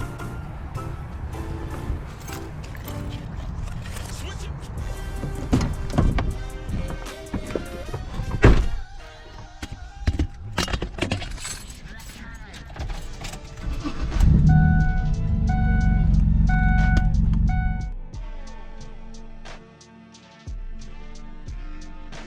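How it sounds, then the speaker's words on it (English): A 2002 Honda CR-V 4x4 is entered with door thunks and clunks, then its engine starts and the truck drives off onto the road, a loud, steady engine rumble building and holding before easing. "let's go ahead and get into my truck and go on onto the road"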